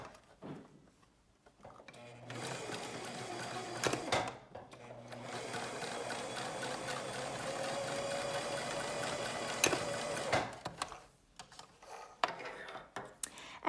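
Sewing machine stitches a nose dart on a fabric face mask, a steady close whirring run of about eight seconds with short starts and stops around it.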